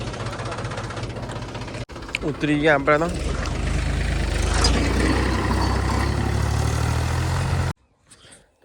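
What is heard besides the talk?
tractor engine idling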